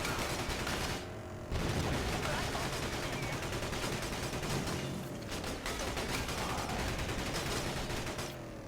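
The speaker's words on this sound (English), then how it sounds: "I just noticed this version has a machine gun I can control." A player-controlled machine gun in Battalion Wars fires in long, rapid sustained bursts, loud and close, with only a brief pause early on amid continuous battlefield noise.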